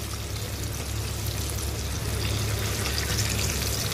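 Zinger burger chicken pieces frying in hot oil, a steady, close crackling sizzle with fine bubbling that holds constant throughout, no voices over it.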